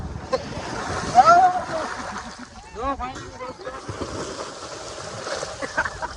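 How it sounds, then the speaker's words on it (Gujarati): Sea waves splash and slosh against the shore at Diu, a steady wash of water close by, with people talking over it. "આ અમારો દેશી દીવનો દરિયો છે"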